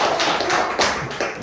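Several people clap their hands together during a church service, a short burst of sharp claps in an uneven rhythm, heard fairly near with no talking.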